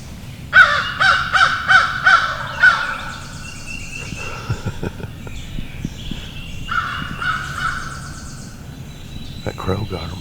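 A crow caws in a rapid series of five harsh calls, then softer rustling and faint murmured voices, with more distant calls later.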